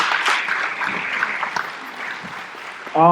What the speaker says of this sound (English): Yes, round of applause for them.